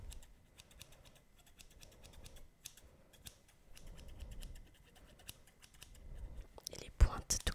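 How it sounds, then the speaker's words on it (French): Small scissors trimming hair with quick, soft snipping clicks in irregular bursts, close and quiet, with a faint rustle and a louder clack near the end. "je vais me munir de ces petits ciseaux pour ajuster."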